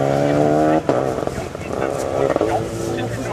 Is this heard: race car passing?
yes